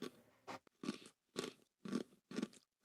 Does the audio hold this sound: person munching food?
yes